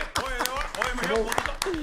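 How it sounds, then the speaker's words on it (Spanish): A small crowd claps for a woman named Michelle, scattered hand claps mixed with overlapping talking and laughter close by, brief and informal. "un aplauso a Michelle"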